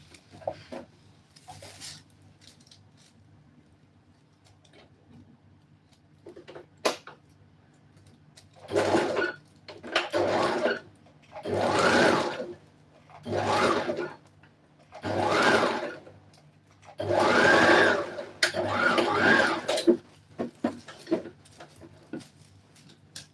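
A sewing machine stitching dress fabric in six or seven short bursts of rapid whirring, each lasting a second or two, separated by brief pauses, close and fairly loud in a quiet room.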